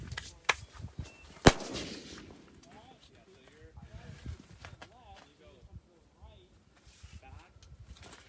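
A single sharp, loud rifle shot from a .308 Sig Cross at an outdoor range cracks out near the start, with a fainter pop just before it, followed by quiet ambience and a low voice talking.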